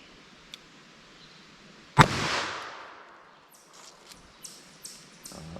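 A single sharp, loud shot from a .38 Special revolver with a 4-inch barrel fired into ballistic gel, a hard crack followed by a decaying echo, then a few faint clicks and chirps.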